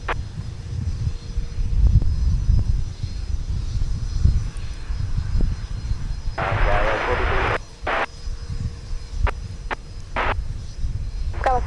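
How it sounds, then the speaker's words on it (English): A Boeing 737-800 jet taxis at Minneapolis–St. Paul Airport, its engines giving a steady low hum and throbbing rumble at a distance, with a burst of broadband noise partway through and short radio-like clicks. "And the 737-800 taxiing as well."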